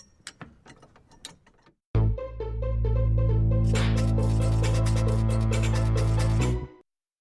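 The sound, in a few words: first responder jack being ratcheted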